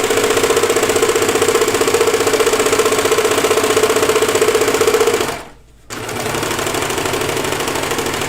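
A serger sewing machine runs steadily, trimming and overlocking fabric for overalls, with a loud, close, fast mechanical whir. It pauses briefly midway and then runs on.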